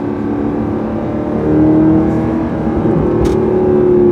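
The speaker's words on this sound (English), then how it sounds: "Here's some burbles as I come to the stop sign and downshift here" A deep exhaust from a 2012 Mercedes C63 AMG rumbles and burbles as the engine drops revs on a downshift while slowing to a stop, close and loud, with a brief crackle near the end.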